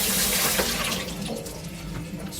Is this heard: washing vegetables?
yes